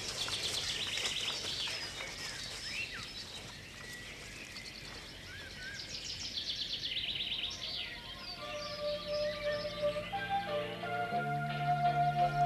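Chaffinches at their nest in a hedge, high twittering calls and chirps over a soft background, with a thin sustained tone and faint rustling in the later part.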